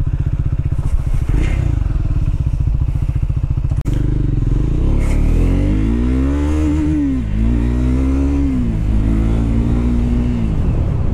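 A Triumph Scrambler 400X motorcycle being ridden, its engine note rising and falling as it accelerates through the gears, loud and close throughout with wind and road clatter and no speech.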